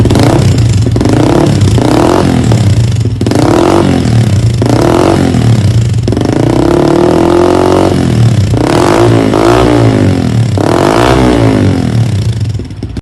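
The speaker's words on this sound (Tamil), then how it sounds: "இப்போ இந்த எக்ஸாஸ்டோட சவுண்டை பார்த்துட்டு வாங்க." A motorcycle fitted with an aftermarket exhaust is revved repeatedly, with loud close bursts that rise and fall in a steady rhythm over a throbbing idle and carry no talk.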